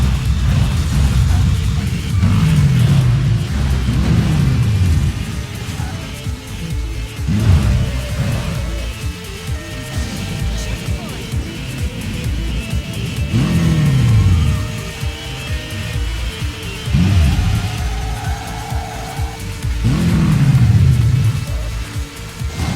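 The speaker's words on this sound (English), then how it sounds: "So hitting these cars is slowing me down, so I'm going to use one of my nitro boosts." Racing car engines in an arcade racing video game surge and drop in repeated rising revving sweeps, with nitro boosts firing, loud and continuous with no talk.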